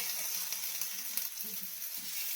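Boiled potatoes fry in hot oil for a Bengali hilsa, brinjal and potato curry, giving a steady, close broadband sizzle with faint crackles and a light stir throughout, no voices.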